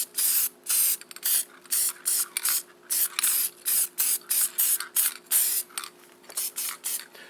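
Repeated short bursts of aerosol spray hissing close by onto the backs of brake pads for a 2004 Volkswagen Jetta TDI, around twenty quick puffs in an uneven rhythm with brief pauses between them.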